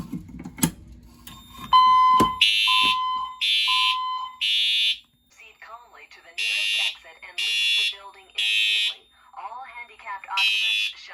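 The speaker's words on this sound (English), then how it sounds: "let's go ahead and activate the fire alarms" A Firelite MS-5012 fire alarm system sounds during a test, with a steady tone followed by repeated loud horn bursts in a regular temporal pattern and a voice announcement between the bursts.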